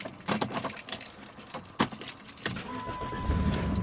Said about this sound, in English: we're going to try and see if it'll crank